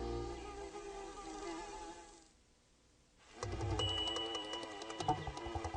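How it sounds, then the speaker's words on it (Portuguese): Bees buzz through a garden with a thin, whining drone that dips nearly silent midway, then returns louder and closer with several overlapping wingbeat tones. "As abelhas movimentam-se pelo jardim em alta velocidade."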